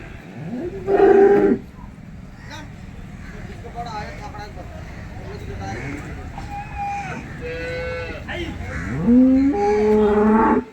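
Cows at a cattle market moo loudly and close by, with a few long, low calls rising and falling, the clearest near the start and end, over a busy background of crowd murmur and other livestock.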